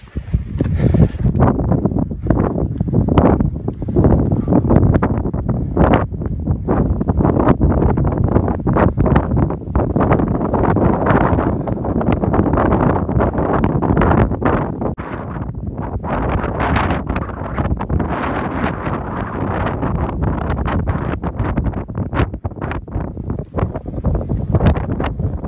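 Strong wind roars steadily and loudly around a mountain refuge at night, gusting and buffeting the microphone with continuous rushing noise and no voices.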